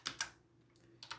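Computer keyboard typing Python code: a few quick separate keystrokes, two at the start and two at the end, with a quiet gap between, close and fairly soft.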